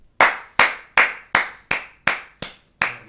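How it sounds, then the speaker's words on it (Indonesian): Hands clap eight times in a steady, even rhythm, each clap sharp and close with a short decay, with no voices over them, during an Indonesian podcast. "Ngapain tepuk tangan?"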